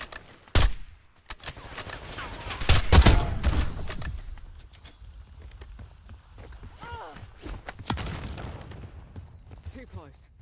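Sharp bursts of gunfire crack in Call of Duty Black Ops 6, with a few loud near shots and scattered quieter volleys, plus footsteps, under intermittent voices.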